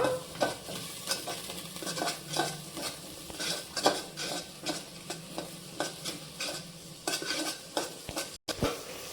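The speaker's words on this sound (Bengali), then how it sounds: "এবার আমি আবারও কিছুক্ষণ নাড়াচাড়া করে নেব" Sugar and salt are stirred into a white pulao base in a pan. Soft, rhythmic scrapes and light clinks of the utensil sit over a gentle sizzle, fairly quiet and close, with no talking.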